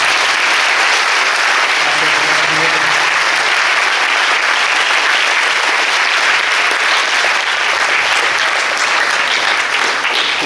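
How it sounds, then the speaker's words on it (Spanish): Audience at a public forum in Culiacán applauding parents and event organizers, a dense, steady roar of clapping filling the full stretch, with a faint voice briefly underneath early on. "Yo les pediría que les dieran un aplauso a sus papás, a sus mamás y a la gente que hace este tipo de eventos."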